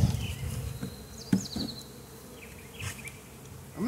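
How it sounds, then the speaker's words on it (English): Honeybees from an overwintered nuc being installed into a hive buzz close by in overlapping drones, individual insects swooping past the ear amid a constant hum. "A lot of bees in this nuc."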